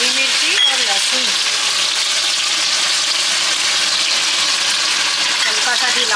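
Cumin, asafoetida, green chilli and garlic sizzle in hot oil as a tempering for a simple vegetable dish, a loud, steady, close crackling hiss that continues unbroken, with a voice briefly heard near the start.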